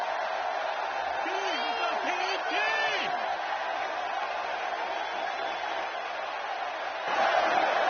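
Capacity crowd roaring steadily in a wrestling video game arena, a continuous broad cheer running under a commentator's voice and swelling slightly near the end.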